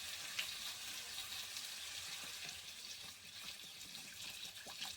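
Water pours into a pot of fish heads and fried potatoes cooking for muri ghonto, making a continuous faint hissing splash with a sizzling edge, and no voices.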